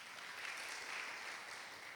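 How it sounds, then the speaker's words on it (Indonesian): Church congregation clapping during a Sunday worship service, a steady wash of hand claps at low, fairly distant level with no voices over it. "Beri tepuk tangan buat Tuhan Yesus."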